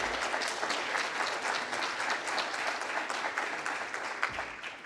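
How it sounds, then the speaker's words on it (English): A lecture audience at the 2023 Gairdner Science Week Laureate Lectures applauds a speaker, with dense, steady clapping that lasts the full five seconds and fades only slightly at the end. "Always nice to have the applause out of the way at the beginning."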